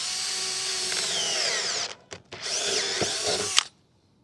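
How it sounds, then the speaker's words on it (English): A power drill bores a hole in metal with a four-flute HSS step drill bit, a loud steady whine that briefly stops and restarts in sputters midway, then runs again before cutting off abruptly at the end. "place into the drill bit and drill a hole."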